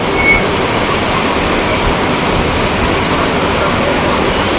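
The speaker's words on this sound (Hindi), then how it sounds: "जबलपुर स्टेशन वंदे भारत एक्सप्रेस पहुंच चुकी है" The Vande Bharat Express rolls into Jabalpur station, a loud steady rumble and rushing noise of the train holding constant throughout.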